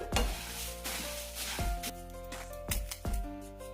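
A sweet mixture for pori balls, a syrup cooked with grated coconut, heats in a pan with a soft sizzle, punctuated by a few sharp scraping strokes from stirring. The sound is quiet and close, with no one speaking.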